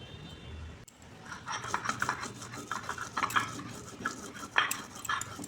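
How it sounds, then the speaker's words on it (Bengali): Dried red chili crushed on a grinding stone gives a rough, rhythmic scraping and grating, close and moderately loud, with a few sharper knocks of stone on stone and no talking. "এখন আমি এই শুকনো লঙ্কাটাও বেটে নিচ্ছি"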